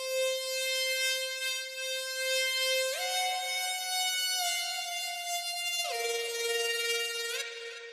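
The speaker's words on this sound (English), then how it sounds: "And what I actually did is I automated the rate of the tremulator," A bright, buzzy synth lead in an FL Studio beat, run through a tremolo plugin with an automated rate, sustaining long notes that step up and down in pitch, loud and unaccompanied.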